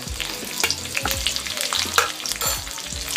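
Garlic and chopped green chilies fry in hot oil with cumin, giving a steady close sizzle under repeated scraping stirs of a spatula.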